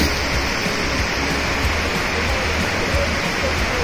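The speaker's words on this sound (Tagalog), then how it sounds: "Ayan. Falls po yan." Steady, broadband roar of a waterfall heard from above along a hiking trail in Japan, constant and fairly loud.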